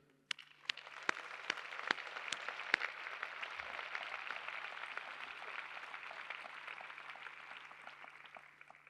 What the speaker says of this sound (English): Let's please give a round of applause to thank everyone who has been part of this journey.